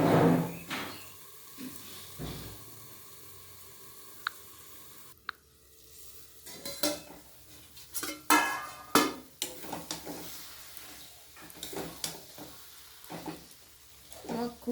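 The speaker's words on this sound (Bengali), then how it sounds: "আমি সুন্দর করে মেখে মেখে এইভাবে আমি বাঁধাকপিগুলো কষিয়ে নেব।" Cabbage being stir-fried in a pan, soft sizzling under a steady scrape and clatter of a spoon against the metal, with repeated stirring strokes and a few sharp knocks, someone speaking intermittently.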